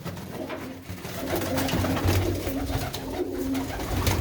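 Pigeons coo in soft, repeated low phrases over a steady murmur of background noise, several birds close by.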